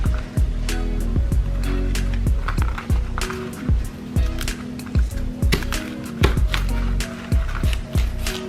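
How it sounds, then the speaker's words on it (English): A knife slices collard green leaves from their stems in a repeated series of sharp cutting strokes against a board, close and crisp, at a fairly steady rhythm. "I will use a knife to cut leaves from stems"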